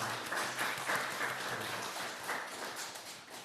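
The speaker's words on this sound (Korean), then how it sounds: "우리 박수로 환영하겠습니다" Soft applause from a church congregation during a Sunday service, a fairly faint and steady patter of clapping that tapers off toward the end.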